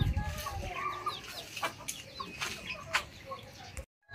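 Backyard hens clucking at dusk, a mix of soft clucks and squawks from several birds nearby, with faint human sounds mixed in, ending abruptly in silence.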